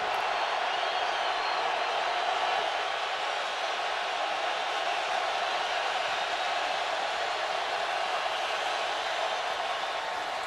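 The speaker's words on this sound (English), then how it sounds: "Dealing with crowd noise are the Giants" An NFL Wild Card playoff crowd in Tampa roars as the Giants face the Buccaneers, a constant loud wash of stadium noise with no breaks.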